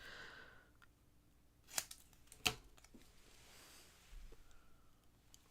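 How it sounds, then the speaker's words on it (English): Scissors snip through paper during a flower craft, giving two crisp, distinct cuts about a second apart with quiet handling noise before and after. "where's my scissors?"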